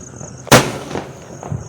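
A firecracker bursts with one sharp, loud bang that trails into a brief echoing decay, set against faint outdoor background noise.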